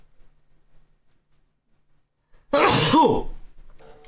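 A single sharp sneeze bursts out after a couple of seconds of near silence, loud and close, with a brief breathy tail.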